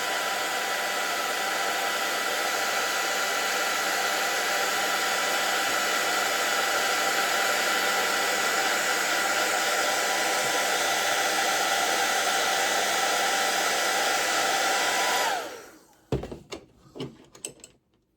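Hair dryer blowing hot air over a vinyl decal on a door, a loud, steady whoosh running for about fifteen seconds before switching off, followed by a few clicks and knocks.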